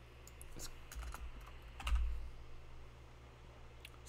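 Typing code on a computer keyboard, a quiet scattering of light key clicks in uneven bursts over a low steady hum, with no talking.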